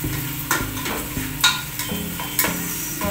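Minced meat and tomatoes cook in a pan for spaghetti sauce, with steady soft sizzling and several louder scraping stirs spaced about a second apart, close and without talk.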